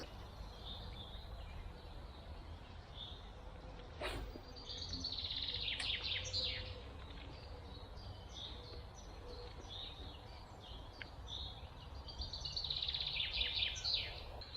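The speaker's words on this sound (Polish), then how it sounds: "Wokół zieleń, śpiew ptaków." Birds chirp and trill repeatedly at a moderate distance at a green fishing spot, with bursts of song coming and going over a steady outdoor background.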